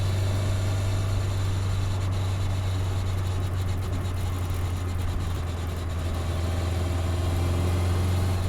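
A 1957 Lotus 7 racing car engine running steadily, a loud continuous low hum with a strong deep drone and rough mechanical texture throughout, no voices.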